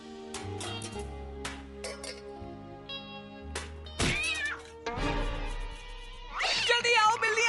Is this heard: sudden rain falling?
no